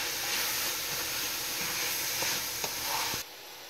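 Green onion and parsley sizzle in a hot frying pan, a steady close hiss with a few faint stirring clicks, cutting off abruptly near the end.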